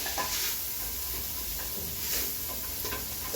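Onions sautéing in a soup pot for an Italian sausage and dandelion greens soup: a soft, steady hiss and sizzle with occasional stirring scrapes, fairly quiet and close, no speech.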